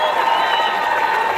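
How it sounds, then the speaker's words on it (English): Audience applause and crowd noise for the 8th graders at a Centennial High School marching band show, a steady, dense wash of clapping filling the whole stretch at close range. "big round of applause for our 8th graders"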